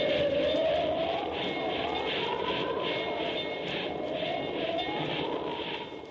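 In a 1946 radio drama, a low, steady rumble with a rhythmic repeating clatter, like a train rolling through mountains toward Medicine Bow at a distance, continuous and fairly faint.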